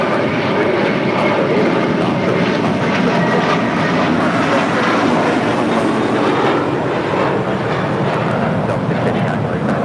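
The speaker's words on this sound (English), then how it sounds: "this is the older JetBlue A321 delivery" An older JetBlue Airbus A321 jet at LAX gives off a loud, continuous engine roar with broadband rumble and whine that holds steady throughout, with voices faintly underneath.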